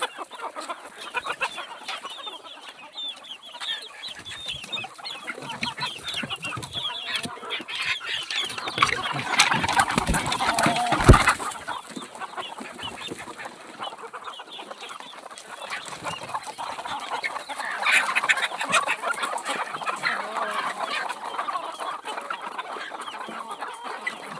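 Free-range village hen in a small enclosed coop calling steadily and nearby, its repeated clucks and cackles running throughout, with a louder burst partway through.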